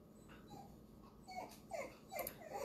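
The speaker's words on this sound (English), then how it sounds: "If you can hear my puppies in the background" Soft, high-pitched puppy whimpers and yips come in short bursts over a faint background hiss, growing a little louder toward the end.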